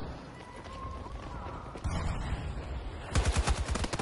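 Automatic rifle fire in Battlefield 2042, including an AK, heard as rapid rattling bursts that grow louder toward the end, with a player talking over the shooting.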